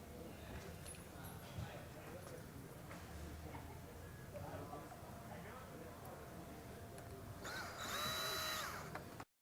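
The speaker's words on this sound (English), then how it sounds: "Screw it in there." A power drill drives screws into a hollow metal door while installing a panic crash bar, with a loud whirring burst near the end after quieter handling and tool noise, and someone speaking over part of it.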